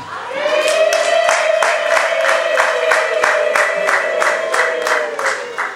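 Women ululating together in impundu to welcome a new member at a Rwandan church gathering, a loud, close, sustained high trilling chorus with rapid rhythmic pulses running throughout.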